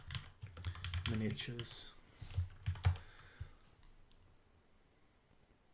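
Quick bursts of typing on a computer keyboard, close and fairly quiet, with a brief spoken word partway through and the keys falling silent near the end.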